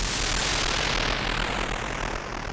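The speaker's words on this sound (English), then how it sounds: "B-17 bomber." B-17 bomber engines roar in a video game, a dense, loud, continuous propeller drone filling the whole moment without letup.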